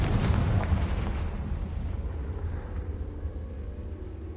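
Confringo fire spell exploding in Hogwarts Legacy, a single heavy boom bursting at the start and rolling off into a long, low rumbling decay.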